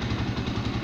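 Shineray Explorer motorcycle engine idling cold on poor-quality fuel, a steady close, loud low-pitched thumping pulse with a slightly uneven rhythm.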